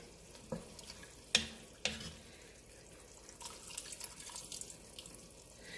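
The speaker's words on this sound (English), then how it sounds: "I'm going to do about a cup of water." Tap water is poured into a pot of sweet onion chili beef, with a few sharp clinks at the start, then a soft, steady splashing and bubbling under a faint kitchen background.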